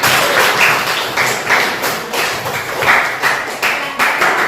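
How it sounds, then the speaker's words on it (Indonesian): A classroom of students claps together after a post-test, a dense, steady patter of many hands filling the room at close range, with no talk over it. "beri tepuk"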